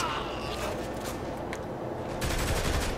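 Gunfire in the video game Saints Row The Third: rapid, continuous shots with loud bursts that build toward the end, with faint footsteps mixed in.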